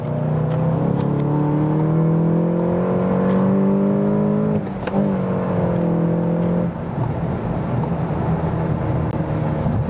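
A 265 hp Volkswagen Golf GTI Clubsport in sport mode revs up under acceleration, its pitch climbing through the gears with a short dip at each shift, heard from inside the cabin with road hum.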